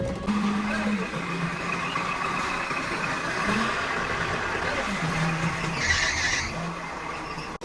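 A car drives in and pulls up to park, its engine a steady low hum with a few rising revs and brief tyre squeals, fairly close, while people talk over it.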